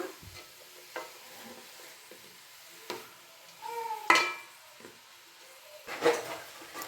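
Grated carrot for carrot halwa being stirred in a pan: intermittent scraping strokes and soft knocks of a spoon, fairly quiet and close, with a faint sizzle between the strokes.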